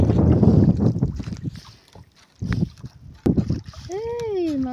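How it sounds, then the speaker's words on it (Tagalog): Strong wind buffets the microphone on a small fishing boat as waves splash and slap against the hull in loud, uneven surges, with a voice briefly heard near the end. "malakas na yung hangin. Mapalakas na rin yung alon. Malaki na yung alon."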